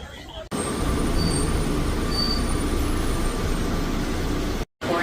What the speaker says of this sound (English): Please hold on. This train is departing.